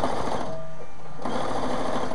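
Sewing machine stitching a sleeve ironing board cover, running steadily and loud with a brief pause in the middle before resuming, no talking.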